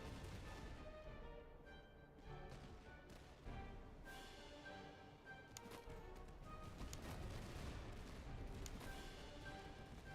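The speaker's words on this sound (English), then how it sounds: "Artillery is doing good work." Artillery and musket fire in the battle game Master of Command, faint and distant booms and cracks scattered irregularly over a steady battlefield rumble, with no talking.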